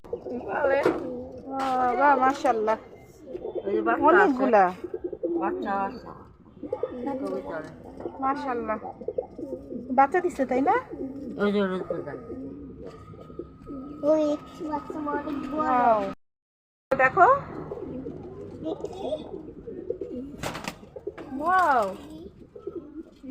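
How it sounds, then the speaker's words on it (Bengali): Pigeons coo softly at a family home kept full of birds and animals, their calls running beneath nearly continuous talk from an adult and children close by. "দেখছো কি সুন্দর পাখিগুলো"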